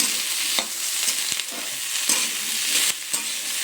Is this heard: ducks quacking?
no